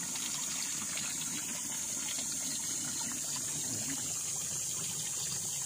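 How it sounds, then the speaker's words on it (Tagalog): Spring water wells steadily out of the ground beside a river on a farm lot in the hot season. It makes a steady, continuous rushing gurgle at moderate level with no pauses and no talking. "Tuloy-tuloy ang agos ng tubig kahit tag-init."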